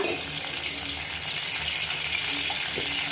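Mustard seeds, cumin and dried red chillies tempering in hot oil in a kadai for vankaya pachadi, giving a steady, close, dense sizzle and crackle throughout with no talking.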